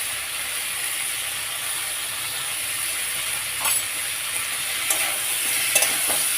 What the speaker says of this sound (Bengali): ভাজা সবজি এগুলো একটু কষে নিই